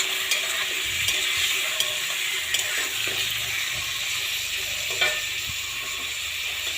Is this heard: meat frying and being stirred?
yes